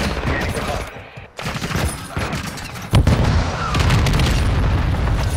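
Heavy gunfire and booming explosions from a VTOL gunship in the video game Call of Duty: Modern Warfare II, a dense continuous barrage that grows louder partway through, with a voice briefly heard underneath.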